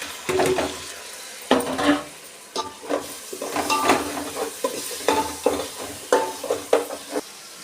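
Ground tomato is sautéed in a pan for mushroom biryani with a soft sizzle under repeated close stirring strokes, as a spatula scrapes and knocks against the pan at an uneven rhythm.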